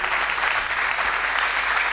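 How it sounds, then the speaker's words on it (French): A church congregation applauds loudly and steadily, a dense continuous wash of clapping from many hands that fills the whole moment without a break. "Acclamons très fort pour les royaumes."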